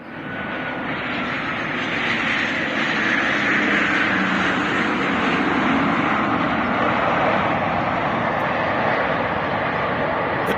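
A Norwegian airliner in from Oslo roars at Alicante airport, its jet engines building quickly to a loud, steady broadband rush that holds close and constant for ten seconds.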